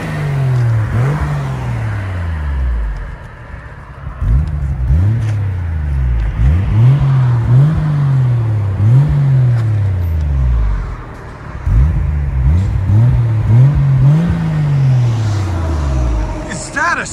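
A very clean, glossy Toyota Supra's engine idles and revs repeatedly, each throttle blip rising and falling in a steady pattern, loud and close, with people talking over it.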